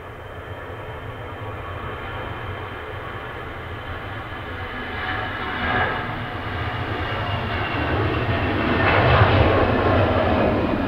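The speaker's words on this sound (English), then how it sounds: "this one's an EasyJet Airbus A320-200 going to Amsterdam" EasyJet Airbus A320-200 airliner passing with a steady broad engine roar that swells mid-clip and builds again toward the end, heard from a distance at an airport without talk.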